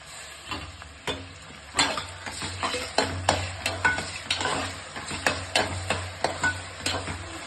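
Tomatoes sizzle in a hot pan for a vegetable pulao while a spoon stirs them, producing a steady fry with regular close scraping and clicking strokes.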